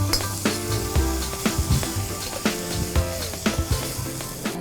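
Octopus seasoned with black pepper, soy sauce and calamansi is stirred in a sizzling pan for adobo sa gata, with repeated sharp clinks of a utensil against the pan over a constant frying hiss.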